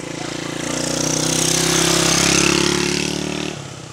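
Motorcycle engine idling close by with a steady low thrum, cutting out near the end, with people talking faintly underneath.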